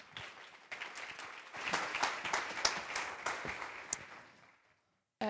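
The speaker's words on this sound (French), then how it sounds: "On l'applaudit un peu" An audience at an on-stage talk claps to welcome a speaker, scattered hand claps building into brisk applause that thins and stops before a brief sound at the end.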